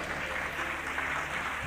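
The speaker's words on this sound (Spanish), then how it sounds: "Aplauda la gloria del Señor." A church congregation applauds with dense, steady clapping that fills the space evenly from start to finish.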